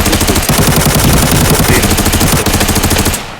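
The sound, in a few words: machine gun fire in video game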